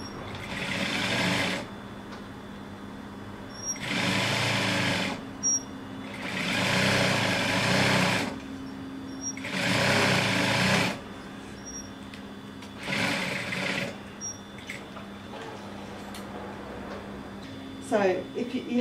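A sewing machine stitches piping onto a box cushion cover in several bursts of steady whirring, each lasting one to three seconds with short pauses between, close and clear with no talk.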